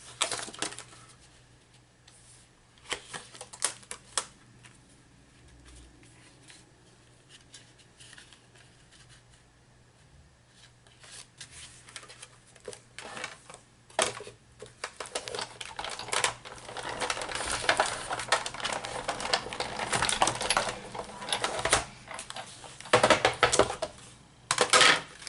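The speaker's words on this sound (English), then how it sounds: "I'm going to stick the whole thing in here into the embossing folder." Green paper in an embossing folder cranked through an embossing machine, close clicking, rattling and grinding that starts sparse and grows into a dense, louder mechanical clatter toward the end.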